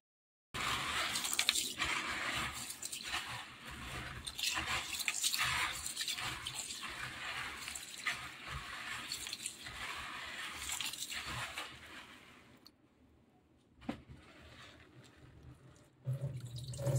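Water drips and splashes as soaked items are washed out, a run of soft, close, irregular drops and trickles that thins into quiet near the end before resuming.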